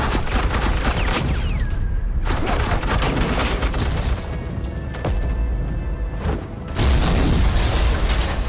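Heavy suppressing gunfire rattles in Batman: The Enemy Within, continuous rapid bursts and booming shots, loud and near, with brief pauses before the firing resumes.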